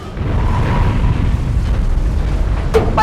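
An explosion in an X-Men: Dark Phoenix movie trailer rolls out as a deep, sustained rumbling boom filling the whole stretch, followed near the end by a couple of sharp bright accents.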